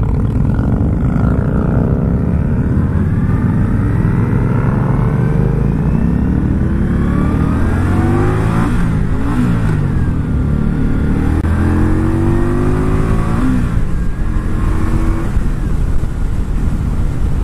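An Indian Scout Sixty motorcycle engine revs up toward 6,500 RPM. Its loud, close drone climbs steadily in pitch, then eases and climbs again, heard alone without talking.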